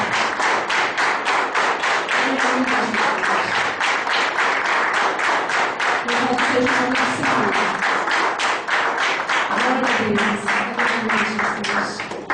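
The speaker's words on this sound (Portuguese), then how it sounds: "E a igreja aplauda o Senhor Jesus bem forte." A church congregation applauds loudly and steadily, dense continuous clapping filling the whole stretch, with faint voices underneath.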